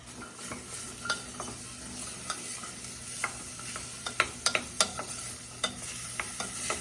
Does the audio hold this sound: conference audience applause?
no